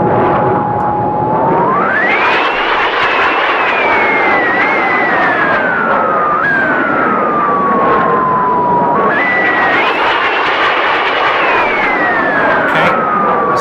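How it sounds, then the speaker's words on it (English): De Havilland Goblin jet engine in a simulated DH.100 Vampire throttled up fast, a loud continuous turbine whine rising sharply in pitch, sliding down, then surging up again, with a steady roar beneath and no talking. "throttle up really quickly. The engine won't like it, and you'll notice that with the sounds it makes"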